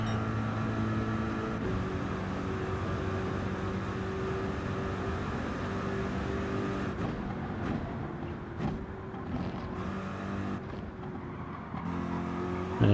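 Race car engine in Gran Turismo 7 on the Daytona circuit during Rolex 24 GTD qualifying, a steady loud sustained drone holding near-constant pitch with brief dips where the revs drop for shifts, alone without talk.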